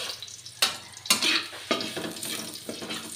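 Chicken pieces browning in a hot pan for Filipino tinola, a steady sizzle broken by several sharp scraping stirs of a utensil against the pan, close and fairly loud with no talking.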